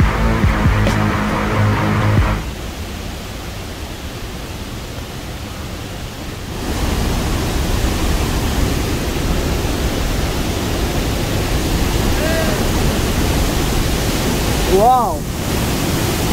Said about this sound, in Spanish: Esta es una de las cascadas más increíbles que ya vi en mi vida.